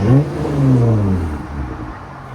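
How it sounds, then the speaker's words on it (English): A Jeep Gladiator's 3.6L V6 with a muffler delete gives a short, deep exhaust rev that rises and then falls off into a low idle rumble, close and fairly loud. "these are like fat trucks, so they need a fat exhaust on them sound"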